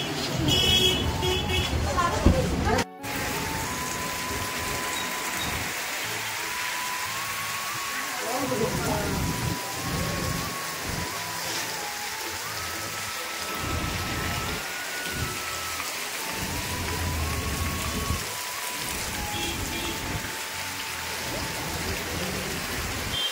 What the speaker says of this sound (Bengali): বৃষ্টি কিন্তু পড়ছে প্রপার।